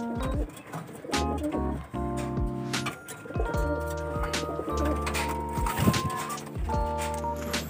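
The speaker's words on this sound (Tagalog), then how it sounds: "So ito mga kalapatids" Pigeons in a racing pigeon loft coo steadily at close range, with layered low throaty calls overlapping continuously and no talk.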